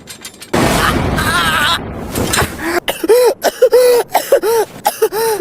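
A coughing fit from an anime character in a Hindi-dubbed Demon Slayer scene, with harsh loud coughs and strained throat sounds at first, then a rapid run of short, choked, bleat-like gasps.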